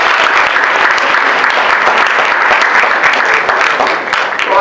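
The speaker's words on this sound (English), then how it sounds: "How about a round of applause for our servers and the people in the back who cooked that great" A banquet audience gives loud, dense, sustained applause for the servers and kitchen staff who cooked the meal, steady throughout and tapering slightly near the end.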